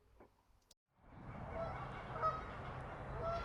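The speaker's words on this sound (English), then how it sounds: "Remember this little beauty, the snow goose?" A snow goose honks in a steady, fairly loud run of calls after a brief quiet gap, with faint outdoor sounds just before.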